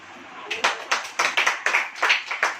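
A church congregation claps hands together in a steady rhythm during a sermon, about nine sharp claps in unison at an even pace, close and clear.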